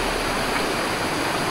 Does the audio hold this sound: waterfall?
yes